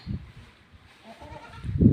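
A Beetal goat in labour bleats twice, a short call near the start and a louder, longer one at the end, with quiet rustling in between.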